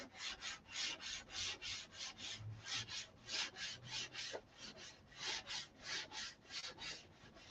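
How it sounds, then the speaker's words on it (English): Rhythmic back-and-forth rasping of sandpaper on a painted Viper surface, about two dozen even strokes in steady succession, close but quiet with no talk. "I really need to go over this whole thing anyway, sand it before I shoot another color on it"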